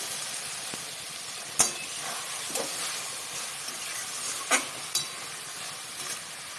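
Chicken mince stirred together with fried potatoes in a frying pan: a steady, close sizzling hiss runs throughout, broken by a few sharp scraping clicks of the utensil against the pan.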